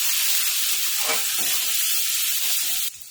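Steady, loud sizzling of garlic-ginger paste frying in hot oil, a continuous hiss with a faint scrape partway through and no voices.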